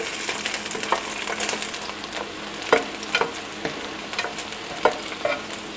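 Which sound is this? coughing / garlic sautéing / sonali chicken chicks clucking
garlic sautéing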